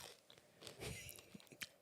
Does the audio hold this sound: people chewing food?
yes